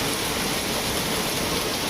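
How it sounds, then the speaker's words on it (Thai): Heavy rain pours onto a roof during a storm in Khon Kaen, a dense, constant hiss that stays loud and even throughout, with no talking. "มาดูสายฝนดีครับ ที่ตกลงมาบนหลังคาเนี่ยครับ"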